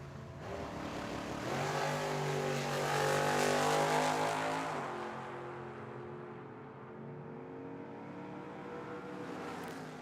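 At Tucson Dragway, drag race cars including a 2000 Corvette launch down the strip, engines roaring and climbing in pitch, then easing off into a fainter, distant drone as they pull away.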